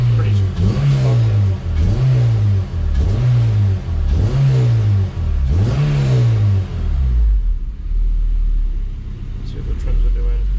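An 8th-gen Honda Civic Si engine with new mounts and clutch sits on a dyno, revving in five short bursts that each rise and fall, loud and close, before it settles to a low, steady idle rumble.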